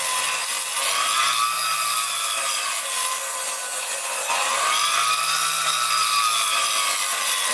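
Bench grinder wheel grinding down a nut on a pair of worn scissors, a steady loud abrasive rasp that runs without a break and swells twice as the metal is pressed in.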